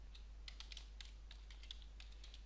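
Computer keyboard keys tapped in a quick, steady burst of light clicks over a low hum, no voices.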